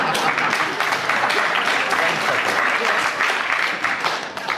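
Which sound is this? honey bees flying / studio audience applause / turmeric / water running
studio audience applause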